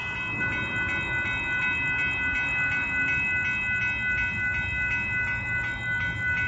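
A Union Pacific limestone freight train rumbles past at close range, wheels clattering steadily beneath a sustained, ringing tonal whine from the cars.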